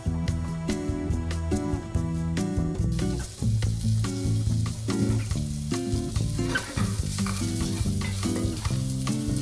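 Onions frying in a pan give a continuous sizzle under loud background music, with no voices present.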